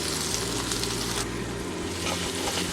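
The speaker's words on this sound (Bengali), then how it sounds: "তখন দিয়ে দেবো একটা ঝিরিঝিরি করে কেটে রাখা পেঁয়াজ।" Thinly sliced onion frying in a pan for a Bengali egg and spinach (palak) dish gives a steady, close sizzle that runs unbroken, with no talk over it.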